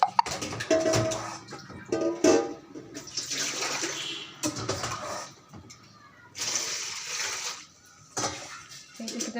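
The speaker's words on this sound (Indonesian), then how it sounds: "Kita masukkan air sampai ke batas dari sini" Water is poured into a steamer pot up to the fill line for sterilising instruments, making a splashing, gurgling stream that stops and starts in several pours, with brief speech between them.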